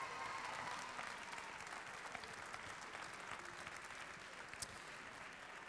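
A large audience at a cooking competition claps continuously, a dense, even wash of applause at some distance that holds steady throughout without letting up.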